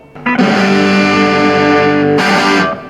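Loud distorted electric guitar, a Fender Stratocaster or Telecaster, rings out in sustained, saturated chords, with a brief pick attack near the start and a bright fresh strum near the end, no voices.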